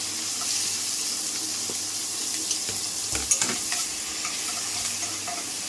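Finely chopped onion frying in ghee for dal fry, a steady close sizzle with occasional spoon scrapes and a few clinks, no talking.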